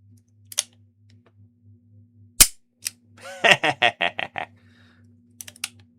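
A revolver being handled to check that its barrel is empty: one sharp mechanical snap, then a quick run of ratcheting metallic clicks and a few faint ticks, close and otherwise quiet.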